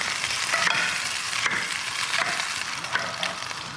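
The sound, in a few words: sliced Spanish onion frying in pan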